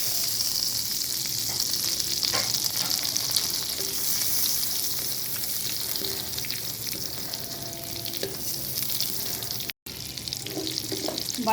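Butter sizzles and crackles softly in a hot wok, a faint steady frying hiss with a few light clinks, no talking over it.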